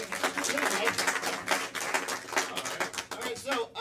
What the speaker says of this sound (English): Clapping is good.